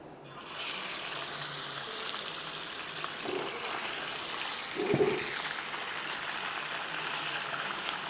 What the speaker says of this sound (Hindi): इसको हम इसमें डाल देंगे, हाफ़ फ्राई करेंगे।